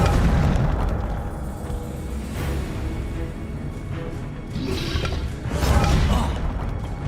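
The Incendio fire spell is cast in Hogwarts Legacy, giving several whooshing, booming bursts spread over a busy bed of game sound, with a strong surge near the end. No talk.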